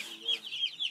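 Broiler chicks give short high-pitched cheeps in quick succession, close and moderately loud, with faint background murmur.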